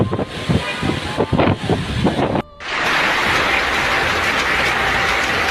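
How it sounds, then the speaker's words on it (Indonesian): Strong storm wind gusts buffet the microphone in uneven bursts in Depok, Indonesia, then settle into a loud, steady roar after a brief cut. "Oh my god. Kencang anginnya."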